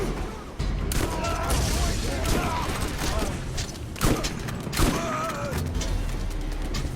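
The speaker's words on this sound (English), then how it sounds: "He's shooting at you with a minigun, I think." A turret-mounted minigun fires in a Borderlands gunfight, a continuous dense rattle of shots with bursts and booms, loud and close, as people talk over it.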